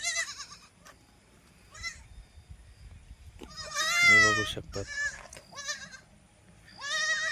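Several goats, including male goats, bleat loudly and repeatedly close by in a farm pen, with someone talking between and over the calls.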